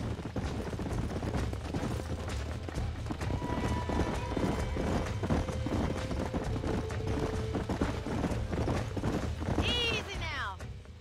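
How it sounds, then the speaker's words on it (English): Horses at a ranch in the Red Dead Redemption video game, hooves clip-clopping steadily and close, with a sharp whinny near the end while characters talk over the scene. "These are fine horses."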